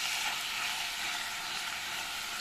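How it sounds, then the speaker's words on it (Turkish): Beetroot pickle (turşu pancarı) sautéing in a pan, a steady, close, even sizzle and crackle of frying with no talk. "2 dakika kadar kavuralım"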